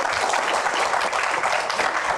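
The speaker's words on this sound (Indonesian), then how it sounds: "Oke, tepuk tangan." Applause from the audience at a live Q&A show with Indonesian minister Bahlil, a dense, steady wash of many hands clapping at once, continuous and fairly loud with no talk over it.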